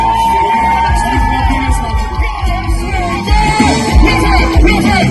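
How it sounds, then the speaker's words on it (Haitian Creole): A large crowd yells, whoops and cheers for Richard Gavé, loud and continuous, with voices shouting over a dense roar of noise. "Seulement nous pouvons applaudissements pour Richard Gavé"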